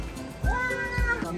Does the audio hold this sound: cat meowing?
yes